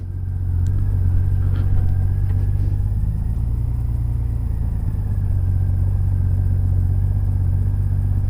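A Honda GL1500 Goldwing motorcycle idles after a carburetor rebuild, giving a loud, steady low engine hum and rumble that stays even for the whole stretch, close up, with no talk.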